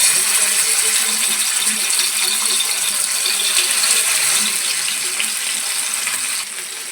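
Fish frying in oil in a pan, a dense continuous bright hiss and crackle close up, steady throughout and easing slightly at the end.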